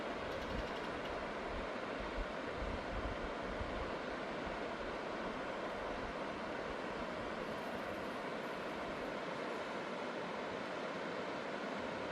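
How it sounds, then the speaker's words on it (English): A river flows through a valley, a steady, broad rushing wash heard at moderate distance with no pauses, a little wind mixed in and no voices. "You might be able to hear the water in the background as the river flows through the valley."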